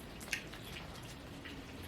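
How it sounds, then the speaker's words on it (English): Rain dripping outdoors on a rainy, windy day, a faint steady patter with one brief louder drop near the start, heard alone with no talking. "It's raining today. Yeah, y'all probably can hear the rain."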